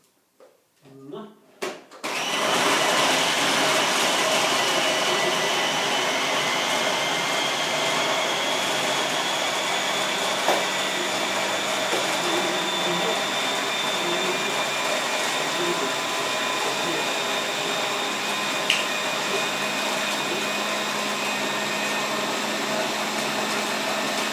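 Food processor blending basil and walnut pesto: after a few brief knocks it starts up into a loud, steady whirring roar that runs unbroken to the end, close to the listener.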